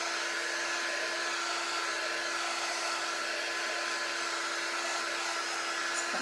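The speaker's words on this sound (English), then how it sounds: "you can just use your blow dryer to dry it" A hair dryer blows steadily to dry freshly applied chalk paint, a continuous high whine and airy rush at constant loudness with no pauses and no talking.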